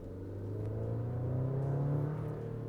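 A 2024 Chevy Colorado ZR2 pickup under hard acceleration with the throttle floored, a steady, loud engine drone rising gradually in pitch, heard from inside the cabin with no talking.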